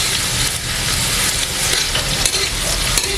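Chopped onion frying for a whitish mutton yakhni pulao, a steady close sizzle with stirring scrapes that runs throughout without any talk.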